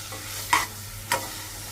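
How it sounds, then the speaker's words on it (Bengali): Bay leaf, cardamom, cloves and cinnamon fry quietly in a pan for a chicken bhuna: a soft, faint sizzle with two brief scraping stirs, about half a second apart. "তেজপাতা, এলাচ, 2-3টা লং এবং 3 টুকরা দারচিনি দিয়ে দেব। এটাকে একটু ভেজে নেব।"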